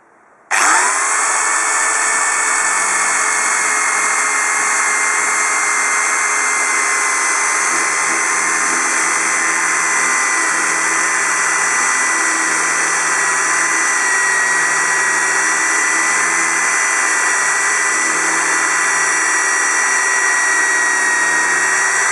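A cheap AMS 500 W electric drill, bit already dull, starts up and runs continuously at high speed while drilling, giving a loud, steady, close whine with a constant motor drone.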